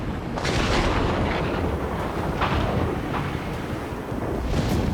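A missile is fired and explodes in the video game Ace Combat 7, heard as a continuous loud roar and rumble with several sharper blasts rising out of it. No one speaks over it.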